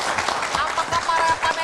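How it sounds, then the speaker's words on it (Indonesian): Brief burst of audience clapping at an Indonesian presidential candidates' debate, a short dense patter of hands with voices mixed in. "Oke, kita berikan tepuk tangan."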